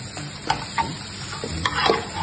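Onion, garlic, nduja, capers and olives sauté in a pan with a constant sizzle. A few sharp stirring scrapes break through the sound, close and fairly loud.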